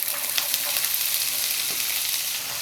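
Chopped onions sizzle and crackle steadily in hot oil with cloves, cinnamon and fennel seeds as the base for a mutton gravy, a loud, continuous frying sound close up with no talking.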